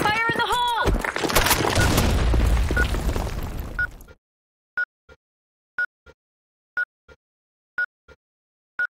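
A grenade blows up in a video game with a loud, close blast and several seconds of crackling debris, followed by silence broken only by sharp, evenly spaced electronic beeps.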